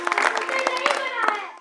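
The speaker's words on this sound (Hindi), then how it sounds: "तालियां" Brief applause from children in a studio drama scene, a quick scatter of claps mixed with voices and tonal sound.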